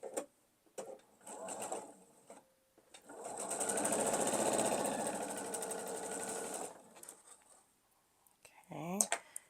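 A sewing machine stitches a quilt block in a steady, fast mechanical run of about four seconds, close and fairly loud, with quieter handling sounds and short bursts of stitching before and after.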